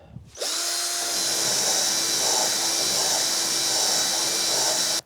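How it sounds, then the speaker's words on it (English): A cordless drill starts up and runs at a steady high whine, spinning a bolt against a file close by with a constant metal-on-metal rasp. "grab your cordless drill, put it to the side of your file and start spinning away"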